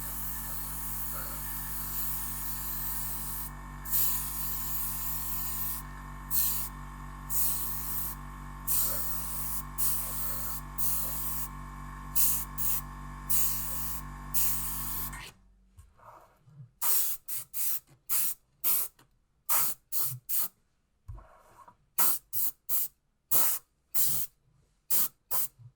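Clear coat is sprayed onto a plastic B-25H model kit, first as a close, continuous hiss broken by short gaps, then as a series of quick, sharp spray bursts.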